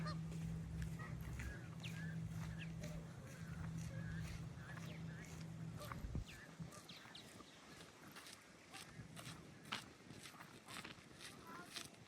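Geese honking repeatedly at moderate distance at Indian Lake State Park, Ohio, over outdoor background noise, with people talking and footsteps nearby.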